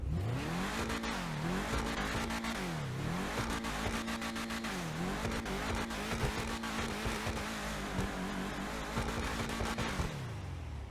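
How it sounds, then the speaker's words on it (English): Ubermacht Rhinehart car engine in the GTA Online video game, revving repeatedly in rising and falling sweeps, then holding a steady high drone before dropping off at the end. "let's take a listen to this vehicle real quick"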